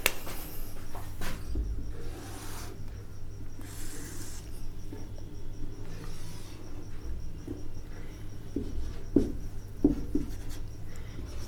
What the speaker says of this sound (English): Now we draw a triangle.